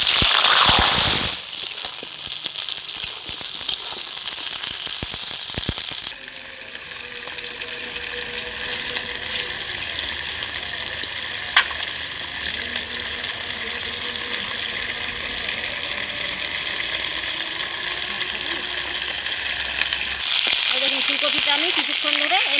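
Cauliflower florets fry in hot oil in a wok with a continuous crackling sizzle and scattered sharp pops. The sound shifts in level partway through, and a voice is heard at times.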